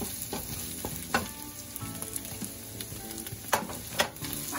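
Chopped onion dropped onto fried chorizo in a hot pan, sizzling steadily with scattered sharp crackles and a few louder pops, close up with no talking.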